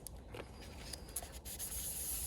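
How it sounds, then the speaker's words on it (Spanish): Fine abrasive scratching from sanding the varnished back cover of a Game Boy Pocket, a close, steady rasp of short strokes with no voices. "Seguimos lijando, teniendo mucho cuidado porque nos podemos comer el barniz."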